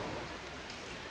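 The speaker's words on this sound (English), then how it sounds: "So yeah, the rain started" Steady rain hisses evenly, a dense wash of drops, close and moderately loud, with no voices.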